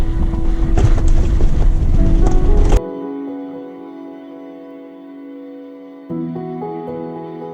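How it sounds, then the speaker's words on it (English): Loud, buffeting wind roars against the microphone for a few seconds near Colonnade Arch Trail by Hanksville, Utah, then cuts to a quieter steady background hum. "Super windy"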